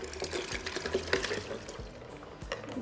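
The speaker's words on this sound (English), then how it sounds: "now we're going to add our 4 cups of ice cold water." Ice cold water is poured into a pitcher of chocolate horchata as a steady, close splashing stream that fills the whole stretch, with light gurgles throughout.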